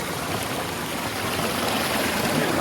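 Water flows steadily in a stream at a marshy outdoor spot, a continuous broad rushing wash close by and without speech.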